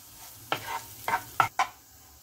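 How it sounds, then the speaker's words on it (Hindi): Spices being mixed into a spiced potato filling for stuffed rava appe, heard as four short scraping strokes of a spoon in a bowl, spread irregularly and alone without talk. "इन सबको अच्छे से हम मिक्स कर लेंगे।"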